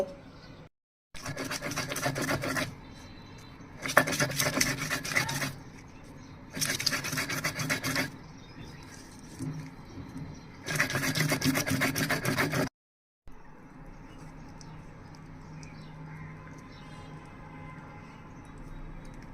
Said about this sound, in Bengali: এখন মরিচের মধ্যে পরিমাণ মতো লবণ দিয়ে বেটে নিব